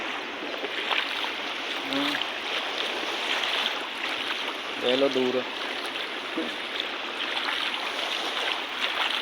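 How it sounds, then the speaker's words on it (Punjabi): Floodwater from heavy rain rushes steadily across a rural road by submerged paddy fields, a constant broad watery roar throughout, with a voice briefly speaking over it. "300 ਮੀਟਰ ਦੇ ਏਰੀਆ 'ਚ ਪਾਣੀ ਵਗ ਜਾਂਦਾ ਆ ਦੇਖੋ ਕਿਵੇਂ ਰੋਡ ਪੈ ਰਿਹਾ"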